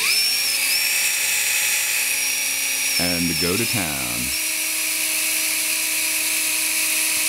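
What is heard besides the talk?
power drill on high drilling a hole for a rod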